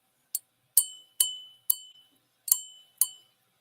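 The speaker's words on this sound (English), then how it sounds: "Hear that ting? That's crystal." Antique European crystal glass tapped six times, each strike a bright, clear ting that rings briefly and decays in an otherwise quiet room.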